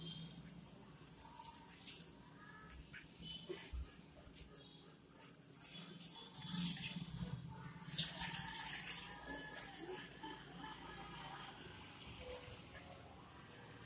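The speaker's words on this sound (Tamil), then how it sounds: "இதுக்கு வந்து இதை மேலே வந்து பச்சை தண்ணி ஊற்றணும்." Cold water poured over freshly made homemade paneer wrapped in cloth, a soft uneven splashing and trickling at moderate distance, rising and falling in bursts with faint background shuffling.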